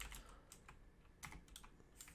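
Computer keyboard typing, a faint irregular patter of quick keystrokes in short bursts, close but quiet, with no one speaking.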